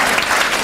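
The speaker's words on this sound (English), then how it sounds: "A round of applause for our panellists." A festival audience applauds the panellists at an arts festival talk, a dense, steady burst of clapping heard in a very short snippet.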